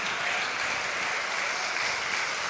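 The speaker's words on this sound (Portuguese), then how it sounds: "mais forte esse aplauso." A church congregation at a Baptist communion service applauds loudly and steadily, a dense wash of many hands clapping at once with no voices over it.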